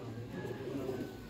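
A high-flyer pigeon, painted with colour, coos softly and close in a brief, continuous low murmur.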